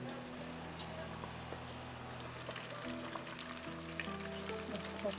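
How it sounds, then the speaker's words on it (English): Chicken wings deep frying in hot oil on their second fry give off a steady, close sizzle with soft crackles, running continuously over a low hum. "I'm gonna fry it twice"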